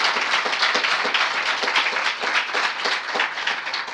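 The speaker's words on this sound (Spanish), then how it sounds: "Les pido un aplauso, por favor" A conference audience applauds in a steady, dense wash of many hands with a faint rhythmic pulse, fairly loud and with no talk over it.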